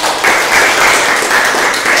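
A school class applauding during a language lesson; brief, loud, close burst of many hands clapping together.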